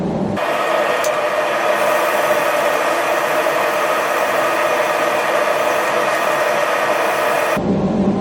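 Steady, even abrasive whir of 400-grit sandpaper on a pear-wood workpiece spinning on a wood lathe, droning continuously at constant loudness for about seven seconds before cutting off.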